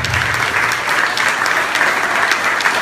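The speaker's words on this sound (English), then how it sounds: "Let's give a round of applause for our judges." A crowd applauds the judges at the 2015 Lebanon Idol singing competition: continuous, dense clapping from many hands, loud and even for the whole short stretch, with no voices on top.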